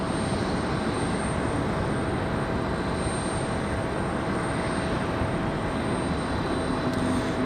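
A Boeing 737 MAX airliner at Raleigh-Durham International Airport gives off a continuous, loud engine roar, a broad steady rumble that neither rises nor fades across the few seconds.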